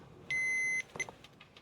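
A grill's alarm gives one long, clear electronic beep, followed by a short second beep and some faint clicks, close by in a quiet setting.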